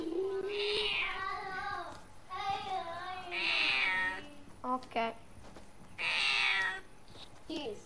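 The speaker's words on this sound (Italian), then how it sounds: "che continua a miagolare" A cat meows repeatedly, several drawn-out, plaintive cries spaced a few seconds apart, close and fairly loud, with a brief spoken word between them.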